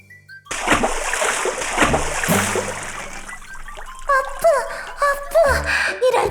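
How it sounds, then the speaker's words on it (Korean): Splashes of two goats tumbling off a narrow log bridge into water, a burst of splashing and dribbling water at the start followed by scattered smaller splashes and chirpy sound effects in a children's fable setting. "결국 외나무 다리 아래로 떨어지고 말았지요."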